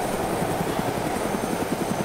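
A helicopter taking off in the survival game DayZ, loud rotor chop beating in a rapid steady rhythm over a continuous engine whine, close by and with no voices.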